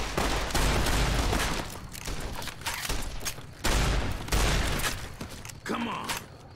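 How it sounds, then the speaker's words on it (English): Bursts of shotgun fire from a sturdy caravan shotgun in Fallout New Vegas, several loud blasts spaced a second or two apart, with game ambience and brief noise between shots. "Sturdy caravan shotgun."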